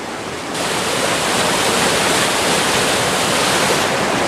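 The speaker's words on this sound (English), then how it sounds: "I'm about to cross this creek here." Rushing mountain creek on the Pacific Crest Trail in the High Sierra near Mather Pass, a loud, close, continuous roar of churning water with no voices.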